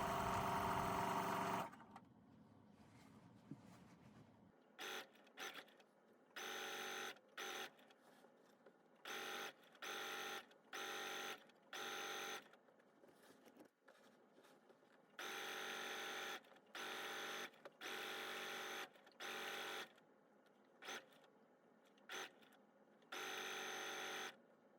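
Sewing machine stitching a rolled hem with a rolled hem foot, running in repeated short bursts with brief pauses between them, moderately close and alone after an opening louder noise.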